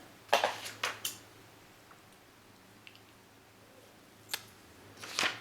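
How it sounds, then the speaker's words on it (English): Scissors snip through crochet yarn in a quiet room: a cluster of sharp, close clicks and snips, a long pause, then a few more crisp snips near the end. "I'll cut this yarn"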